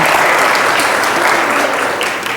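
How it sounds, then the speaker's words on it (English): Audience applause at a tech talk on cloud deployment with Ansible, a dense, loud, continuous wash of many hands clapping together, sustained evenly before tapering slightly at the end. "Round of applause"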